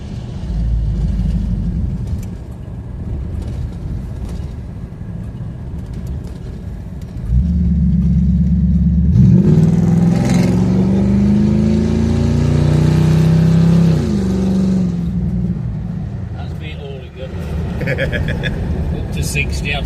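A Lincoln Continental Mark III classic American car accelerates on a UK road, its engine rumble rising in a steady, loud pull heard from inside the cabin, with a voice talking over parts of it.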